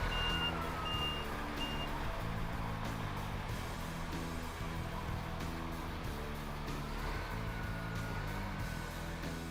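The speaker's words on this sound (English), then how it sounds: "checking the brake and backup alarm for proper operation" Regular electronic beeping from a Doosan articulated dump truck's reversing alarm over the steady rumble of its heavy diesel engine, close by, with no talking.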